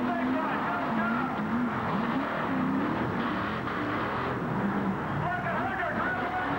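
Ford Bigfoot and Chevrolet monster trucks race side by side at a 1987 Cleveland motorsports event, engines roaring steadily throughout with tire noise, while an announcer talks excitedly over the din.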